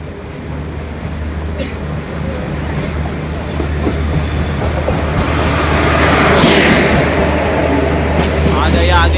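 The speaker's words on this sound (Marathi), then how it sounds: "फायनली आपली ट्रेन आली आहे दिवे पॅसेंजर" A Diva passenger train rolls into a station on a cold morning, a loud, rising rumble of wheels and carriages that builds toward the end, with people talking faintly nearby.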